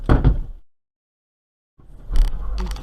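A car door thumps and rattles, a dull impact followed by silence, then more clattering knocks and road noise, heard from inside a vehicle.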